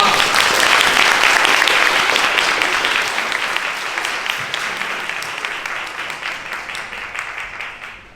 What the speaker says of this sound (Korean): 우리 선교사님 나올 때 우리 축복하는 마음으로 박수하며 환영했으면 좋겠습니다